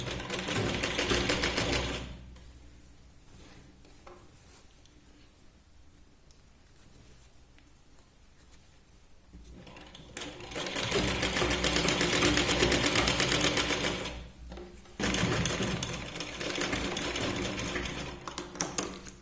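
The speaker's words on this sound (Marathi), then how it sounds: "इथे आपल्याला साधारण किंचितशी शिलाई लावायची" A sewing machine stitches a blouse in two long loud runs, separated by a quieter stretch with faint handling noise.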